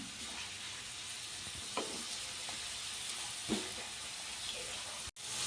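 Two chopped onions, added after green chilies, fry in a pan with a continuous close hiss of sizzling oil, broken by a few soft scrapes of stirring.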